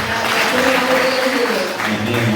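A church congregation claps for the choir at a Swahili-speaking fellowship service, dense steady applause that fills the space while voices carry underneath.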